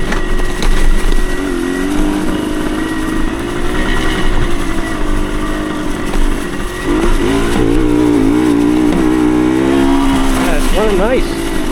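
A 1975 Suzuki TS125 Duster two-stroke 125 motorcycle running, a loud, steady buzzing engine with rising and falling revs, heard up close throughout.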